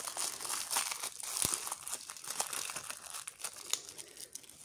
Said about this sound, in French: il y a la petite protection là en plastique là, qui est collée